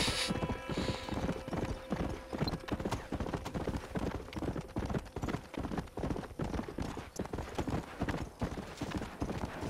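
Horse hooves clip-clop at a steady trotting rhythm in Red Dead Redemption, close and continuous throughout with no voices over them.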